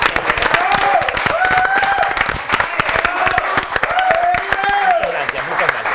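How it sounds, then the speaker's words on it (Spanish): Studio audience applauds the arrival of guest Jorge Dorio on a talk show, steady clapping over six seconds with a voice speaking over it and some cheering. "Lo aplaudimos."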